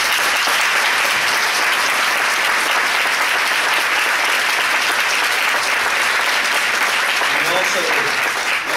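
A loud, sustained round of applause from a talent show audience, dense clapping running steadily throughout with no talk on top.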